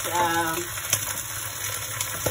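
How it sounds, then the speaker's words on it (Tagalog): Aromatics including spring onion sauté in a pan for pork belly, a steady sizzle with a few sharp utensil taps, while a voice briefly hums or speaks at the start. "Gisa-gisa para maano yung aroma"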